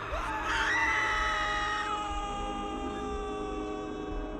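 Several people scream in fright together as a horror-story sound effect, a loud sustained chorus of shrieks that rises near the start and then holds steady.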